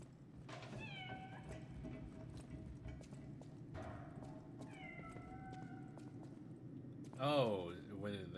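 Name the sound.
cat meowing, from video game Lies of P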